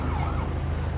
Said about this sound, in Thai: การเปิดสัญญาณไซเรนนับว่ามีความสำคัญกับเจ้าหน้าที่อาสากู้ภัย